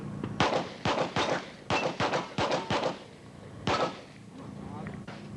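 Gunshots ring out in rapid sharp bursts during a timed run at a 1988 Steel Challenge shooting competition, several quick shots in a row and then a final shot a moment later, loud and close.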